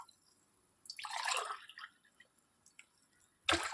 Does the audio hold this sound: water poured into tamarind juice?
yes